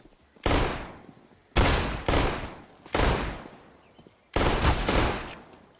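Four bursts of CS:GO gunfire, Scout sniper rifle shots through a wooden wall, each a sharp loud blast with a ringing decay, spaced unevenly with short quiet gaps between them.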